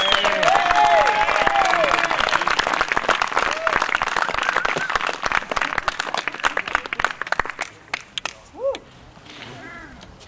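Audience gives a big round of applause, loud clapping mixed with cheers and whoops that tapers off over several seconds, with voices calling out as it fades.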